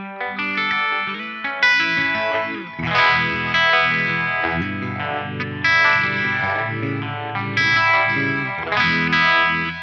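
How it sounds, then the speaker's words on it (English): Electric guitar played through a Helix Stadium rig with overdrive and vibe effects engaged, giving a driven, warbling tone: sustained chords and notes ring out steadily and loudly, with fresh strums every few seconds and no talking. "Okay, let's turn the overdrive. Let's turn the vibe."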